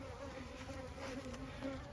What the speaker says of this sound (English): it's full of bees